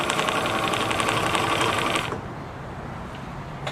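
A Bernina Record 730 sewing machine stitches zigzag at medium tension, a close, fast rattling whir of needle and gears that stops abruptly about halfway, leaving a quieter mechanical hum.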